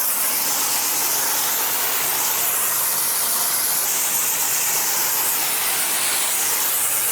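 Coloured foam sprayed onto a motorcycle chain during a wash, a loud, steady, close-up hiss of spray running without a break and no speech over it.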